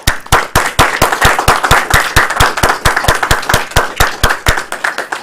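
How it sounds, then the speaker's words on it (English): Steady, evenly spaced clapping from an audience at a Toastmasters humorous and impromptu speaking contest, crisp and close, with sharp claps in a regular rhythm for about five seconds and no talking. "Let's have a round of applause for both of them."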